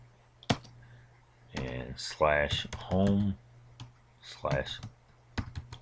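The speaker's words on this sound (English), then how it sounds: "we just type in the lsl command" Typing a command on a computer keyboard while setting up an Ubuntu server, a few scattered sharp key clicks around a voice talking.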